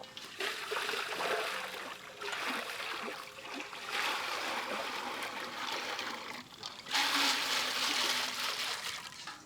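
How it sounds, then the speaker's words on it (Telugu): Water pours into a pot of chana dal set up for boiling, a steady splashing gush in a few bursts that rises louder near the end. "బాయిల్ చేయడం కోసం దీంట్లోనే మనం వాటర్ యాడ్ చేసి ప్రాసెస్ స్టార్ట్ చేద్దాం"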